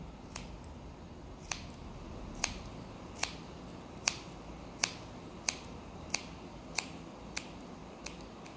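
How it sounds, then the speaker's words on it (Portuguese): Scissors snip into a woman's straight-cut hair in point-cutting fashion, making crisp, faint, close clicks at a roughly regular pace of about one per second over a quiet background. "Vou cortar picotando."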